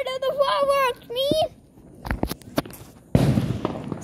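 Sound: New Year fireworks going off

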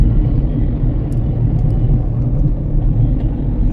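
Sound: car driving in top gear on Delhi road

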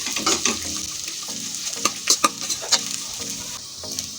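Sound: dry dates roasting in ghee

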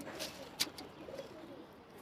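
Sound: pigeons cooing

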